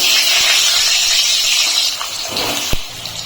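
Potatoes dropped into two spoons of hot mustard oil for a home-style mutton curry hiss and sizzle loudly and steadily, with a bright frying crackle that eases slightly near the end.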